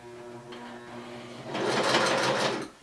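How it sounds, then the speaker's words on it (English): A sewing machine runs a straight stitch along a shirt seam, starting after a quiet moment with a steady, fairly soft mechanical whir that fades toward the end. "now we're gonna do a straight stitch"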